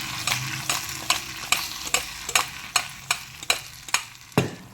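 Tomatoes sizzle in oil while a utensil flips, scrapes and taps the pan in a regular rhythm, about two strokes a second, close up, no talking.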